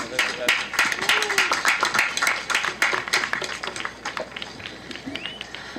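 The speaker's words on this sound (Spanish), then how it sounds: "Un aplauso para nuestra hermana indígena" An audience applauds a Hopi Nation speaker at a gathering of Indigenous peoples of the Americas in Vícam, with scattered, uneven clapping and crowd voices mixed in, fading slightly toward the end.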